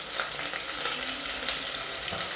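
Crushed garlic and ginger sizzle in hot oil for a fish curry, a dense, close crackling fry with small pops and a bit of stirring, no voices.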